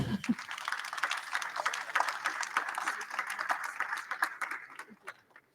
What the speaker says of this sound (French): Je pense qu'on peut peut-être leur dire merci, les applaudir un peu aussi quand même.